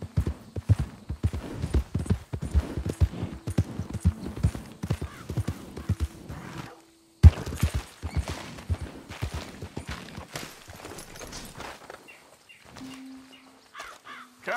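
Horse hooves clip-clop steadily while riding in Red Dead Redemption 2, a dense rhythmic clatter of close footfalls that breaks off briefly mid-way and resumes, with crow caws and other game ambience mixed in.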